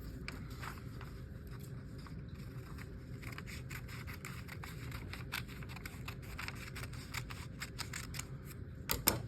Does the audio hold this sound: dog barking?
no